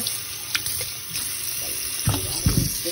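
Tap water runs steadily into a sink while fish soak, with a few soft splashes and clinks toward the end, close and moderately quiet.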